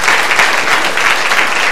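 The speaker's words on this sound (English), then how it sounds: "Clap your hands and shout." An audience at a church gathering claps loudly and continuously in a dense, even wash of applause, with no speech over it.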